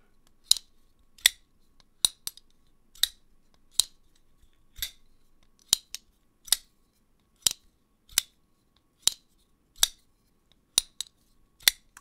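A We Knife Co Excito button lock knife flicked open and shut again and again, each snap a sharp, bright metallic click, about fifteen of them in a fairly steady rhythm, close and alone with no talking.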